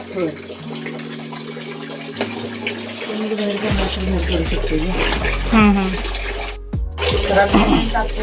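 Water runs steadily from the outlet of a wood-fired household water heater, a continuous splashing flow heard close by under background voices and clatter.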